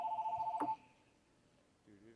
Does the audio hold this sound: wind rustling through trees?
no